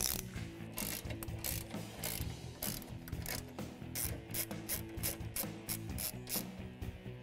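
A ratchet wrench loosens the strut tower brace bolts on a 2015-2017 Mustang GT, giving dense rapid metallic clicking in close, steady bursts for several seconds with no talking.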